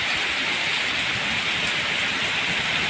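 Steady heavy rain pours down over a waterlogged field of ruined mung bean crops, a dense, even hiss close by with no breaks and no voices.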